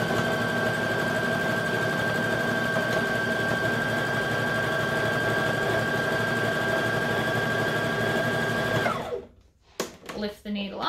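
An embroidery machine stitches a buttonhole with a steady, fast, even mechanical whir that runs loud and constant for about nine seconds, then stops abruptly, leaving a few brief knocks and handling sounds.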